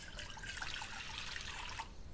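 Water from a measuring cup poured into a kitchen wok to start sugar syrup for khoya gulab jamun, a steady close splashing trickle lasting about two seconds and then stopping, with no voices.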